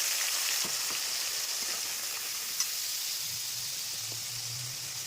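Ground coriander-cumin spice paste sizzles in hot oil with tempering, a steady bright hiss throughout with occasional soft taps, and a low hum rising underneath toward the end.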